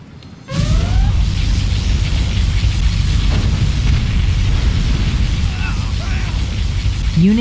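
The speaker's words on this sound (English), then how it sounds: "Particle cannon activated." Particle cannon firing in the game C&C Generals Zero Hour, a loud, sustained roaring blast with a dense low rumble that runs steadily for several seconds, with faint sweeping tones layered over it.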